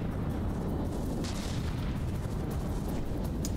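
Battleship cannons firing in the naval combat game From the Depths, a dense steady roar of rumbling booms with brief sharp bursts at intervals, loud and continuous with no talking.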